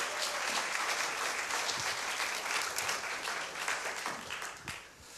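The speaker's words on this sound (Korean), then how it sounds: "우리 목사님 나오실 때 그냥 박수로 한번 환영하겠어요" A Korean church congregation at an afternoon worship service breaks into sustained, even clapping to welcome a visiting pastor, a dense wash of applause that tapers slightly near the end.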